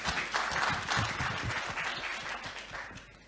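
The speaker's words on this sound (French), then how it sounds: "Je vous propose d'applaudir Fabrice de Mélis." Conference audience at an innovation awards event claps in a lively burst, individual hand claps audible within the dense applause, which gradually thins and fades toward the end.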